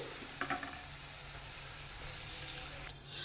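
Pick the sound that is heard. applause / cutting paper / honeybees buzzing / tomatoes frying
tomatoes frying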